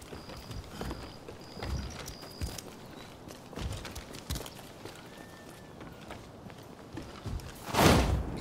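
A horse in the video game Rise of the Ronin sends up irregular hoof clops at moderate distance, with a louder rushing burst near the end and no speech.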